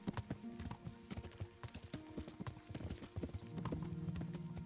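Horses ridden in the video game Kingdom Come: Deliverance, a steady close clip-clop of hooves over a low ambient game bed, with no talk.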